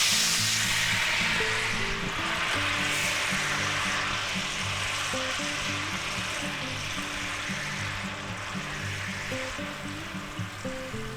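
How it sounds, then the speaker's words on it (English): About half a cup of red drinking wine hits a hot steak pan to start an au jus, sizzling and bubbling in a loud, steady hiss under quiet background music. "We're going to take about a half a cup of red wine, drinking wine, not cooking wine. Put that right in there."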